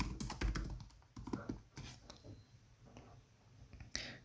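Close, quick clattering keystrokes on a computer keyboard while Python code for a 2048 game is typed, coming in uneven bursts with short pauses between them.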